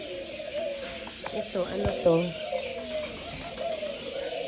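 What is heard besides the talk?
bird cooing at a zoo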